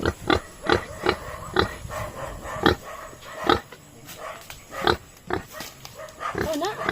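Pig grunting in a farmyard, a series of short rhythmic grunts and snorts at close range, with a few squeals near the end and no talk during the sounds.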